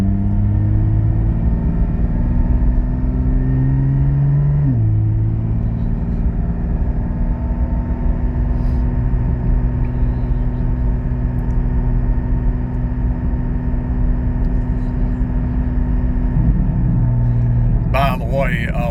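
A car fitted with a Soul Performance V2 exhaust, valves locked open, rolls through stop-and-go mall traffic with a steady, loud low drone and rumble that shifts pitch briefly as it eases on and off the throttle.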